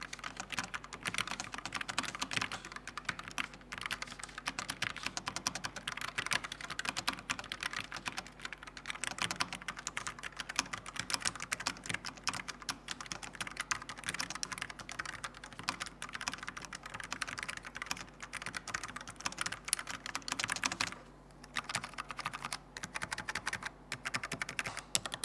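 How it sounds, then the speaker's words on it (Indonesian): Continuous, fast typing on a low-profile mechanical keyboard, the keystrokes close and clear, with a brief pause near the end. "buat gua suaranya sih udah cukup satisfying untuk sebuah keyboard low profile"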